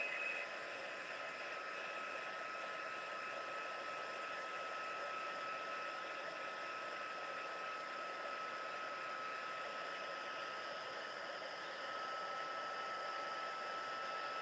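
A heat tool blows continuously while heat-setting white embossing powder, giving a steady, even whooshing hiss with a faint whine that runs unbroken for the whole stretch.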